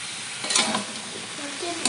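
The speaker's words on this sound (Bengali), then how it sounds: "দিয়ে দেবো, কেটে রাখা আলু আর বেগুন।" Cut potatoes and eggplant fry in a pan with a steady sizzle, broken by a couple of brief scraping bursts as they are stirred.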